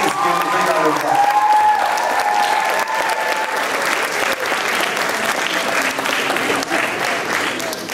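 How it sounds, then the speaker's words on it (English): Sustained applause from a large crowd, steady clapping throughout with a few faint cheers and voices mixed in near the start. "Please give him a big round of applause."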